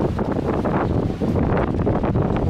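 Strong, steady wind in Skopje, Macedonia roars and buffets the microphone in a continuous broadband rush, with a brief lull midway before gusting back up.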